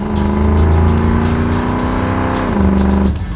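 A 2015–2017 Ford Mustang GT V8 revs through its aftermarket exhaust system, a loud, steady, deep drone that holds and then drops in pitch near the end, with no talking.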